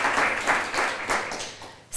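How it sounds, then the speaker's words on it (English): A crowd applauds a city arts agency team during a strategic-plan presentation. The applause is a steady, broad wash of many hands clapping throughout and begins to thin toward the end. "you should give them a round of applause"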